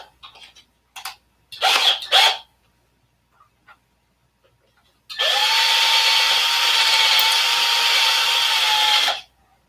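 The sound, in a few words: augering out a hole in an engine cowl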